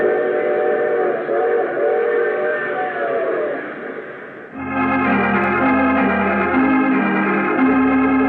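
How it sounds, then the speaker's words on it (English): Steam train in an old-time radio mystery drama: a rumbling locomotive run gives way to a sustained, loud multi-tone whistle blast that holds and shifts pitch, with no voices over it. "I take this same train every week at this same time."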